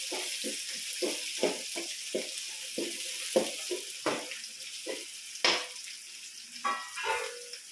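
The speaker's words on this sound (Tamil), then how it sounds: "சின்ன வெங்காயம் போட்டு கிண்டிக்கணும்" Small shallots stirred and sautéed in a hot pan while making egg gravy, giving a steady run of scraping spoon strokes over a soft sizzle, close and fairly quiet, with no voices.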